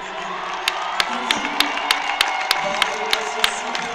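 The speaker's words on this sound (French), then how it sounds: "Timothée Adolphe qui demande donc au public de Charletti d'applaudir" At the para athletics world championships, a stadium crowd claps in unison with a slow, even rhythm of sharp beats about every third of a second, over a steady murmur and faint cheers.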